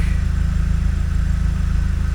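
A VW Caddy pickup's converted 1.8T engine idles steadily after a spark plug change, a close, even, low rhythmic rumble with no talk.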